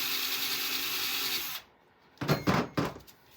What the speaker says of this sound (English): So I'm going to hold this in at an angle, and we're just doing a little grinding.